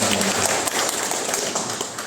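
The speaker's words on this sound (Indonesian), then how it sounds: "Kita tepuk tangan dulu" Audience at an open dissertation defense session applauds in a steady, continuous wash of clapping that holds for about two seconds with a slight hum of voices underneath.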